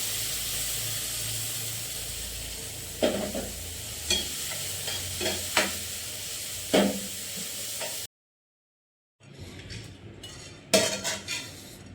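Green chillies frying in a pan with tomatoes being added, a steady sizzle with scraping, stirring spoon knocks against the pan, a brief silence, then more clatter and sizzling.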